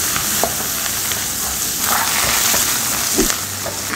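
Onion, garlic and the white part of spring onion sizzle in hot margarine, a steady dense frying hiss with a few faint stirring scrapes, close and continuous with no talking.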